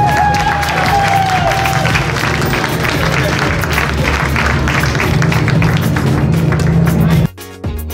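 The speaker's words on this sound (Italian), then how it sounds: "Un applauso!" Audience at a Miss & Mister Model Italia beauty pageant selection evening in Mazzano, Brescia, applauding loudly and continuously over dense crowd noise and music, ending abruptly near the close.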